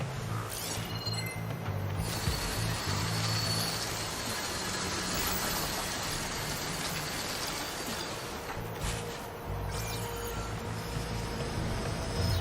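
Robotic machine creatures in Horizon Forbidden West whir and grind with a dense, continuous mechanical rumble, dipping briefly twice before resuming, loud and without speech.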